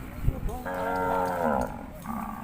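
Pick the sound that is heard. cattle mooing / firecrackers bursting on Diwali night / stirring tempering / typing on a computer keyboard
cattle mooing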